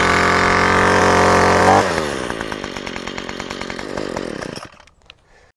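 A Troy-Bilt TB25PS 25cc gas pole saw engine starts after a pull and runs loudly, first at a steady high idle, then dropping to a lower sputtering rumble before cutting off into near silence.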